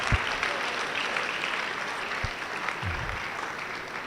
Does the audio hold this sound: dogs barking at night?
no